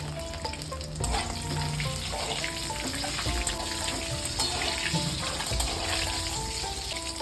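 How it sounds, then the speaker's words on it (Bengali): Eggs fry in hot oil with Kashmiri chili powder in a pan while being stirred, giving a steady loud sizzle with intermittent scraping, no voices. "ডিম ভাজার সময় একটু কাশ্মীরি লঙ্কা গুঁড়ো দিলাম"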